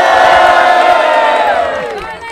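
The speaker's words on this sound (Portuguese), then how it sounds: "Passa um de palmas aí pra ele, família!" Crowd at a rap battle in Barueri, São Paulo, cheers and shouts loudly throughout, the noise trailing off at the end.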